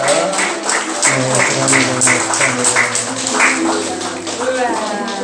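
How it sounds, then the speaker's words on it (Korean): A church congregation gives steady, dense applause during a Sunday worship service with a baptism. The clapping is close and fills the whole space without a break. "여러분 축하 박수 부탁합니다"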